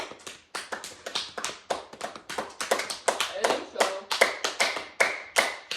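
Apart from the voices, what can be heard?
hand clapping after a presentation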